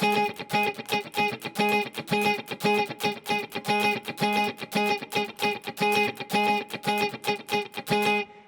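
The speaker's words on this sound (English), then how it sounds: "octave guitar part that's just staying on one note, but it's creating this really cool rhythmic driving effect" An electric guitar repeats one octave note in a tight, driving funk-disco rhythm, with muted scratch strums filling the gaps, steady and prominent with no voices.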